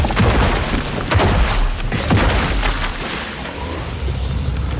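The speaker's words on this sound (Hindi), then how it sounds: "अनीता की बात खत्म करते ही वहां एक जोरदार धमाका हुआ" A loud explosion from a fantasy horror story, where stone serpents swollen like balloons burst apart, gives a broad rumbling blast that stays dense and heavy throughout, with no voices.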